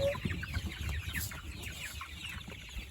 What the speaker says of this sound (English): So we're moving the chicks out. Sounds pretty chaotic.